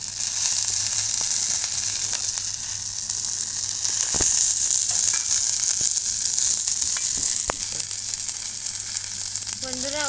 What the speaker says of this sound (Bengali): আমার পাতুরিগুলো ভাজা প্রায় শেষ